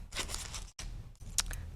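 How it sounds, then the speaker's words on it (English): Snipping of scissors cutting paper, several quick crisp cuts close by, with a short pause between bursts. "We're gonna have to use our scissors."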